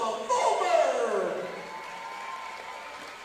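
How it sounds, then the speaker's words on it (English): A gym crowd at a high school basketball game applauding a senior cheerleader, a burst of clapping and cheers that starts abruptly and fades slowly, with an announcer's amplified voice over it. "Give her one more really nice round of applause for all of our senior cheerleaders and their parents"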